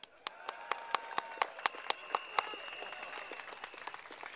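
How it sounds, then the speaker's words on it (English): Crowd clapping at an outdoor political election rally in Boon Lay, a burst of sharp claps that peaks early and then thins out into scattered claps. "Let's give him a clap."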